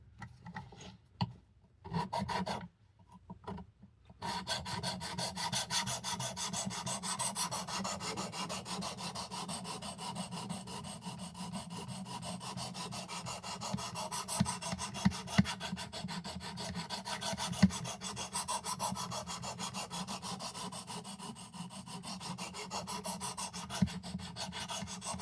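An Old Timer Sharpfinger knife blade rasps back and forth across a coarse grit sharpening stone in steady, close strokes, continuous after a few brief pauses at the start.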